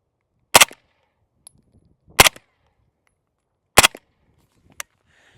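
Three sharp suppressed gunshots firing 115 grain Perfecta rounds ring out loud and close, evenly spaced about a second and a half apart, with a small metallic click after the last one.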